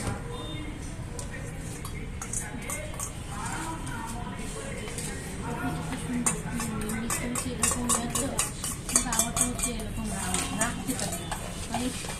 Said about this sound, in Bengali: এই জন্য আমরা যখন ডিম ফেটে আস্তে আস্তে mix করবো